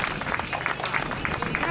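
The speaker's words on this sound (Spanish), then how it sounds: "¡El aplauso de todos nosotros!" A crowd at a masters cycling stage race in Santander applauds in a brief, dense wash of clapping, with excited voices mixed in.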